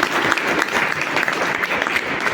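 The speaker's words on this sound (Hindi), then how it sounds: "टीसी सर एक बार जोरदार तालियां" An audience at a business meeting bursts into loud, energetic applause, many hands clapping in a thick, continuous roar with a few sharper claps standing out.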